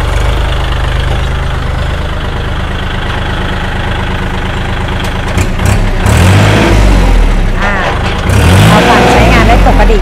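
A Kubota L4018 tractor engine, a low-hour used machine, runs steadily with its rotary tiller attached, a continuous low rumble that rises and roughens toward the end, with someone talking over it.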